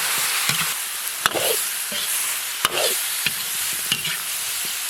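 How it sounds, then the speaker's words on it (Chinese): Mutton stir-fried in a wok with scallion, ginger, garlic and dried chili, a steady close sizzle broken by several sharp clanks of a spatula against the pan. "全部炒起，倒入羊肉。"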